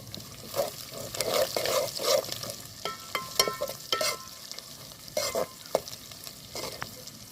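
Curry leaves sizzling and crackling in hot oil for a vegetable curry, stirred in the pan with irregular bursts of frying noise, close and clear, with no talking.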